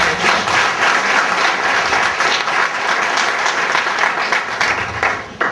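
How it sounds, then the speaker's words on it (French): Steady, loud applause from a press conference audience for a football academy, many hands clapping densely and evenly for several seconds with no speech. "Je vous demande de l'applaudir."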